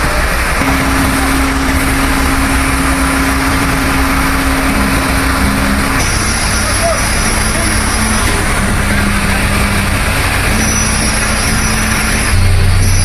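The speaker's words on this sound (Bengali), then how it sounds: "এই যে অনেক গাড়ি ঘোড়া এখানে, মেশিন ইঞ্জিন সব কিছু এখানে" Vehicles and machine engines run together at the Karatoya bridge construction site in Bangladesh, a steady broadband rumble with sustained drone tones that shift partway through, continuous and fairly loud throughout.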